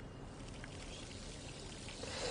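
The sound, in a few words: water tap running at a jacuzzi in video game The Darkness II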